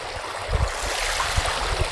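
A river flowing outdoors in late winter, a steady broad rush of water with low churning surges, close and continuous with no talk.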